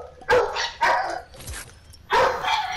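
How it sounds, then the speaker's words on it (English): A dog barks loudly and close by, giving three sharp barks with brief gaps between them and no talking. "Shut up, dog!"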